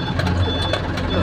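Reversing beeps from a heavy coal mining truck on a small town road in Sekayu, a steady repeating electronic tone held above the low rumble of engines nearby.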